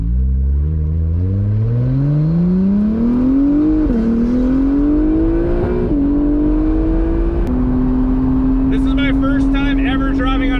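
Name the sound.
Acura NSX car flyby on racetrack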